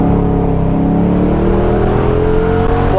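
A car accelerates hard through a flat corner on a winding mountain road, its engine droning steadily and rising in pitch, close and loud with no gear change.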